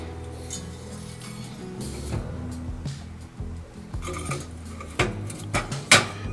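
Metal sear grates are set into a Yoder YS640S pellet smoker, a series of close clanks and metallic clinks that grow sharper and louder toward the end.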